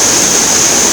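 Rapids on the Chattahoochee River between Columbus, Georgia and Phenix City, Alabama, a steady close roar of rushing whitewater filling the whole second with no break.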